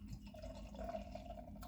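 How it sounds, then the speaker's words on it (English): Helles beer poured from a bottle into a vintage glass, giving a soft steady trickle and liquid fill, close and quiet, with no talking. "Pour a little bit into that."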